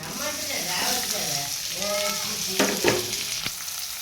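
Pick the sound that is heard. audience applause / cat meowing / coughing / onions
onions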